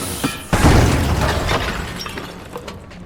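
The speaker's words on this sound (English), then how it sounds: "let's listen to some destruction." Destruction in the video game The Finals: a loud crash of shattering and crumbling debris that bursts in early, then settles into a long rumbling, rattling tail with scattered small impacts.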